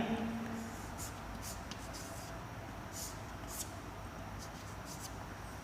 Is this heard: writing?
yes